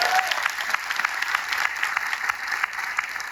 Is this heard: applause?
yes